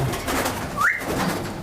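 In a breeding cage for ring-necked parakeets, one bird gives a single short rising whistled call. It stands out clearly against a steady background hiss.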